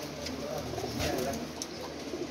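Soft, low pigeon cooing throughout, mixed with steady background noise and faint chirps; the calls are close but not loud.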